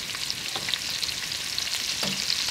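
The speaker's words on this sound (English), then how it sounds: "I'm going to use the same pan to saute my vegetables." Onion sizzling steadily in a hot pan used earlier for frying, a continuous broadband crackle with a few brief stirring scrapes, close and alone with no talk.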